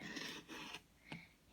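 Quilt fabric being trimmed at a wonky-sewn seam, a few close, dry raspy strokes of cutting in short bursts, with a brief pause before a final quick snip.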